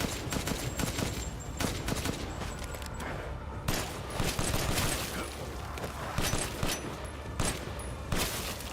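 Dense, loud bursts of gunfire from Resident Evil Village on hardcore mode, with rapid overlapping shots and heavy impacts that continue almost without pause throughout.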